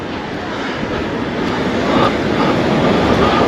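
Strong sea waves pound the rocky Jeju coast in a loud, continuous roar of churning surf, heard up close with no voices over it.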